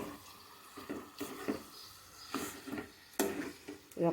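Mutton curry frying in oil in a pan, with soft sizzling and intermittent stirring clatters and scrapes at close range, fairly quiet, no talking.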